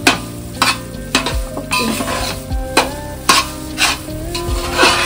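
Semolina (rava) roasting in a pan for a puja offering, stirred with repeated loud scraping strokes and intermittent sizzling, close and fairly loud, no talking.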